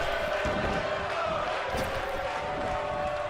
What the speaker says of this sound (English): there you hear this crowd definitely behind Sami Zayn here tonight